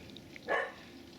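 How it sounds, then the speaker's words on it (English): A neighbouring dog gives a single short bark outdoors in a garden on a warm late-summer day, moderately loud and slightly distant, with quiet ambience before and after. "Next door seems to have acquired a dog."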